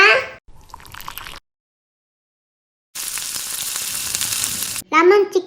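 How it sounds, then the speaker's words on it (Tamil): Marinated lemon pepper chicken fries in oil with a loud, steady hiss, heard in separate bursts between silent gaps. A voice speaks at the start and again at the end. "இப்போ சிக்கன் ஃப்ரை பண்ணிக்கலாமா?"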